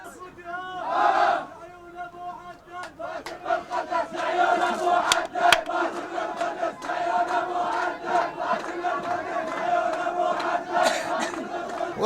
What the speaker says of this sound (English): Cheering crowds greet them on the road to Baghdad.